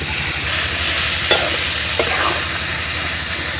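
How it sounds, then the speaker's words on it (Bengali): Jujube pickle is stirred continuously in oil in a pan over low heat, giving a loud, close, steady sizzle with a couple of scraping strokes of the spoon. "এইভাবে অনবরত নাড়তে হবে।"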